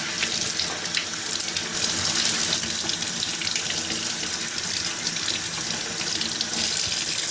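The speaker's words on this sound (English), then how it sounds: "when you wash these potatoes up, you want to get them washed pretty good" Tap water runs steadily from a kitchen faucet into a sink as potatoes are washed under it, a continuous close splashing hiss with small shifts in flow and no voices.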